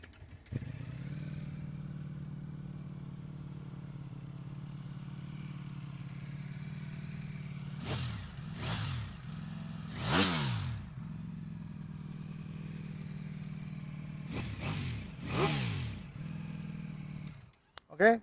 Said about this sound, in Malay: jom kita start tengok ini Ducati Panigale V4S version 3 bunyi standard macam mana